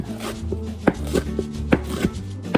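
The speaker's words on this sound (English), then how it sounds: "you're just going to move the cutting board this way and then chop in the opposite direction" A knife chops food into slivers on a cutting board, giving a quick, uneven run of about eight crisp, close-up knocks with no talking.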